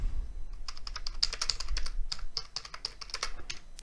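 Rapid, irregular clicking of keys being typed on a computer keyboard, close and moderately quiet, with no voices.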